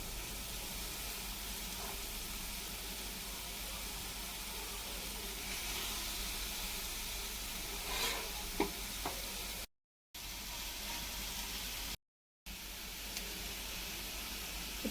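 Marinated masala fish pieces fry in plenty of oil on a tawa, a steady, even hiss and sizzle held close throughout with a few faint clicks, and two brief dropouts near the end.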